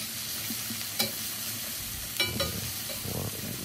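Garlic cloves and onions with a splash of cooking wine sizzle steadily in a pan for hamburger steak, with a couple of sharp utensil scrapes and clicks from stirring close by.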